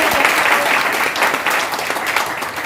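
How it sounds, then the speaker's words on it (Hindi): Audience applause at a business training meeting, steady dense clapping from a large crowd filling the whole stretch at close range. "ताली होनी चाहिए कि नहीं?"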